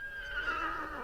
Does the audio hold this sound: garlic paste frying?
no